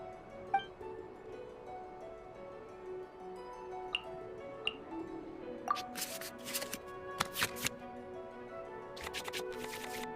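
Several quick bursts of playing cards being shuffled, clustered near the end, over a steady musical background with occasional soft clicks.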